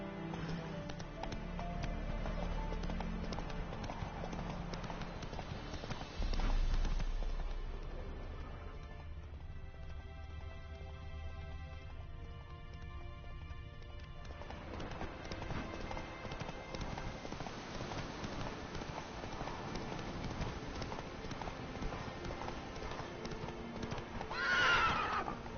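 Geralt's horse Roach in The Witcher 3 gallops with a continuous, rhythmic clip-clop of hooves. Loud neighs and whinnies break in along the way, and game music plays underneath the close, prominent hoofbeats.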